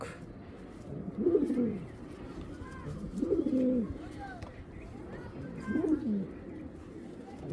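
Racing pigeons cooing in soft, rumbling phrases that recur about every two seconds, close by over a steady background murmur with faint chirps from other birds.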